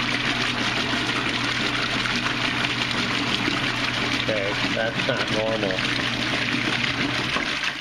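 A faulty Whirlpool washing machine spinning fast in one direction without agitating or draining gives a steady, loud whooshing water and motor noise throughout, with a brief spoken word and some faint voice over it.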